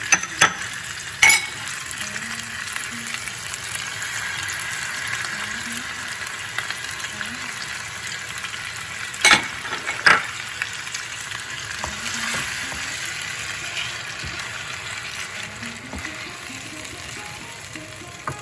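Soaked spice paste fries in a pan with a steady sizzle, broken by a few sharp clinks of a utensil against the metal.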